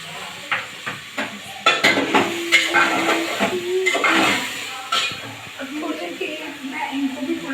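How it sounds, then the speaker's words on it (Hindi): Potatoes and carrots tumble into a pan of cooking tomatoes and peas, with scattered clatters and scraping stirs over a soft sizzle; background voices murmur throughout. "अब मैं इसमें ऐड कर रही हूँ आलू, और आलू के साथ ही मैं इसमें गाजर भी डाल दूँगी।"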